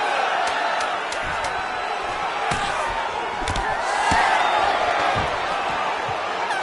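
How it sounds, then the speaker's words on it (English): Arena crowd at a UFC Fight Night event roaring steadily after a long ground exchange, a dense sustained wall of voices with scattered sharp slams and whoops, loud and continuous throughout. "you heard the crowd pop after that grueling ground battle"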